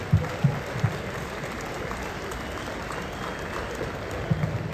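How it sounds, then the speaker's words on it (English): Crowd applause at a Team Corvette main stage presentation of the 2025 Corvette ZR1, a steady wash of clapping heard at some distance, with a few louder thumps at the start and end. "Let's give Taj a round of applause."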